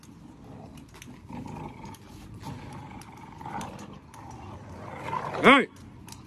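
Dogs play-fight with low, rumbling growls that rise into a sharp, loud yelp near the end, with a person's voice heard faintly in the background.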